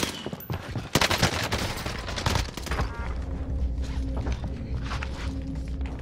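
Gunfire from a new assault rifle in Fortnite, a burst of rapid shots in the first seconds followed by scattered further fire and footsteps amid busy game sounds.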